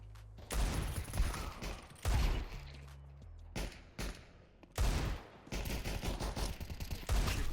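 Rapid gunfire in a video game shooter comes in dense, loud bursts separated by brief pauses, with one long sustained spray near the end and metallic clicks between volleys.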